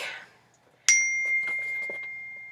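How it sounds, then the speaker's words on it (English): A phone text message notification rings once as a bright ding, a clear sustained tone that fades slowly after a brief breath and quiet murmur. "hello, text message"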